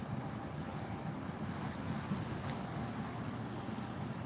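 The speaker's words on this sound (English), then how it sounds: "now all I can hear is the sea" Steady, broadband wash of the sea on a beach with an incoming tide at Wallasey, Wirral, a continuous soft roar of waves with wind noise over the microphone and no speech.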